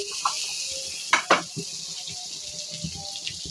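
Small fish sauté in a pan for an eggplant curry, with a soft, continuous frying sizzle broken by a few sharp scraping and stirring clatters near the middle.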